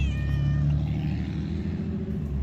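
A cat meows once, a drawn-out, rising-then-falling cry up close over a steady low rumble.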